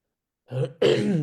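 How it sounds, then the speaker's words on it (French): A single throat clearing, close and fairly loud: a short gruff rasp followed by a longer, harsher clearing, with silence before it. "Pierre se racle la gorge"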